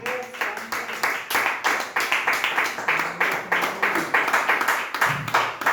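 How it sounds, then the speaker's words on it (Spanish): Church congregation clapping in rhythm during a Spanish-language worship service: a steady beat of sharp hand claps, loud and close, continuing throughout with faint voices underneath. "Aplaude la gloria de Dios"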